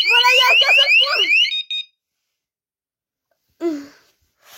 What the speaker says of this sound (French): si vous armez l'alarme, voilà. Je vais vous faire une petite démo. Vous allez voir, ça va sonner